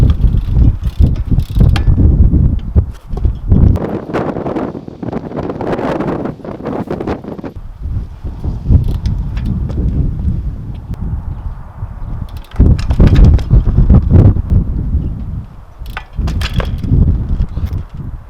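Wind buffets the microphone in loud gusty bursts while a rider attempts back hops on a race BMX bike outdoors, with mechanical rattles from the bike mixed in.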